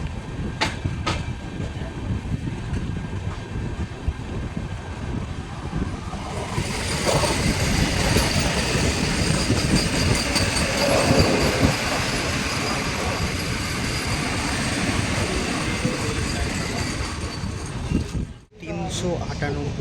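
Tatanagar Vande Bharat Express running by, a continuous rolling rumble and wheel clatter that swells in the middle and stays steady, heard alongside voices and station noise.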